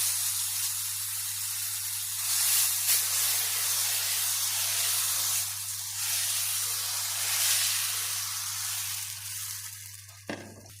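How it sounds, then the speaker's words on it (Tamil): Dosa batter with a pinch of salt sizzles steadily on a hot pan, a loud continuous hiss and spray that swells and fades slightly over several seconds, alone with no talk. "இப்போ தோசையை சுடுறேன்"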